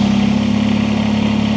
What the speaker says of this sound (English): And then start your tractor.